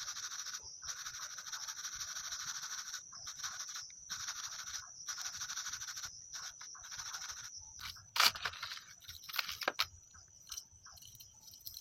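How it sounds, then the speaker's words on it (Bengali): Gold jewellery being cleaned at home with a soft brush, a close, rhythmic bristly scrubbing in repeated strokes with brief pauses, plus a few clicks and rattles of the pieces. "ঘুরে ঘুরে এই ব্রাশ করে দিতে হবে।"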